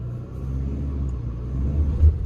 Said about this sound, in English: Good job them Michelin's bit in and got us out the gravel.